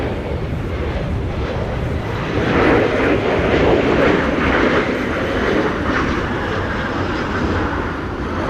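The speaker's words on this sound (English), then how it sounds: "the Embraer 175 over here. Arriving from Düsseldorf" An Embraer 175 airliner arriving at Amsterdam Schiphol in high winds gives a loud, steady engine roar mixed with gusting wind noise, swelling slightly midway without any talk.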